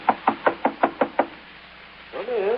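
Seven sharp knocks on a door in a vintage radio detective drama, evenly spaced and close, followed by a brief pause before a voice begins.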